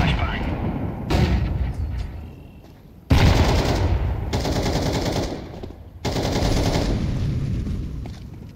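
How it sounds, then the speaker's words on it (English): Grenade and flashbang throws in the shooter game Counter-Strike 2, with loud bursts of gunfire and blasts coming in sharp onsets around them and continuing over a busy, dense battle din with speech mixed in. "Throwing a grenade."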